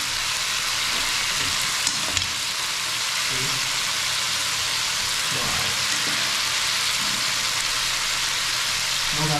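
Fish, a sapsap, sizzles in hot oil with a steady, dense crackle and hiss that runs throughout, with faint clinks and occasional soft background noises beneath.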